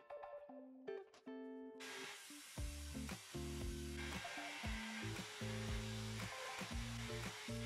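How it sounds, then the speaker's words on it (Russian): A polishing wheel dressed with GOI paste buffs a steel bolt blank fitted with two nuts, giving a loud, steady whirring grind with shifting, rhythmic surges as the metal is pressed against the spinning wheel. "Теперь полируем нашу заготовку, смазав полировочный круг пастой Гои."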